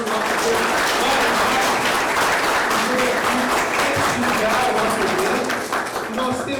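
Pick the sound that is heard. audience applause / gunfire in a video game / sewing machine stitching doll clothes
audience applause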